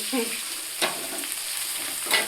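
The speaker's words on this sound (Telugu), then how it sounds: "మనం తాలింపుకు రెడీ చేసి పెట్టుకుని అయితే వేసేసుకోవాలి" Tempering spices sizzling in hot oil for puffed rice, a close, continuous frying hiss with a couple of brief stirring scrapes.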